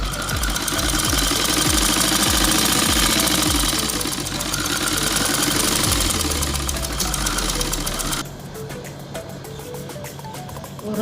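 A sewing machine stitches the seams of a 12-panel palazzo in a steady, rapid mechanical chatter, loud and close, then drops to a quieter running hum near the end.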